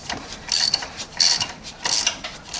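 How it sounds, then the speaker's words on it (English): A ratchet wrench clicks in short, repeated bursts as engine mount bolts are tightened on a 2006 Nissan Serena. The clicking is close, crisp and rhythmic, heard alone without any talking. "Once we got all the bolts in, nicely lined up, we can start tightening them."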